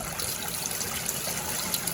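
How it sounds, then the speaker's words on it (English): Running water rinsing out an empty can of Campbell's chicken sausage gumbo soup, a steady close gushing hiss with little variation throughout. "next you want to save the planet by rinsing this shit out."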